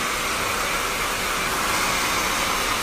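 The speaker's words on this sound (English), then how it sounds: "Notice that I'm constantly moving the hair dryer." A hair dryer blows steadily and loudly at close range during a long-to-short bob haircut, giving an even, unbroken rushing hiss with no talk.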